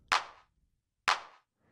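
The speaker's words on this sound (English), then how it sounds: "to just make it a quick clap without the reverb tail" Two short, dry drum machine clap hits about a second apart, each a sharp snappy burst that cuts off quickly with no reverb tail.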